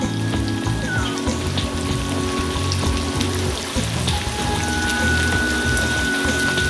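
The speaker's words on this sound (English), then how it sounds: "we're just gonna saute, cook everything down." Steak, peppers and beef drippings sautéing in a pan, a dense, continuous crackling sizzle heard up close and unbroken, with a faint tonal hum running underneath.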